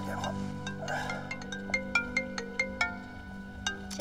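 A phone ringtone plays a bright, plinking melody of short repeated tones, close and clear over a low background hum, with no talk.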